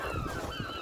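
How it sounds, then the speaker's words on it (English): Seagulls cry and squawk in a dense, continuous chorus by the ocean in the No Man's Sky video game, harsh overlapping calls filling the whole stretch at a steady level. "the cacophony of seagulls screaming at you"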